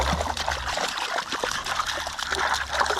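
Creek water trickling and babbling through a small gorge at a campsite, a close, continuous dribbling flow with light splashes and no speech.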